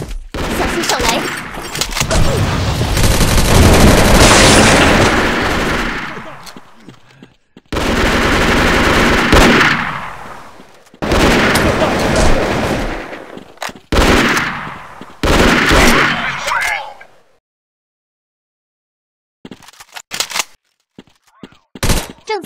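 AK rifle fire in a Chinese mobile shooter game: long loud bursts of rapid automatic shots broken by short pauses, then silence and a few faint clicks near the end.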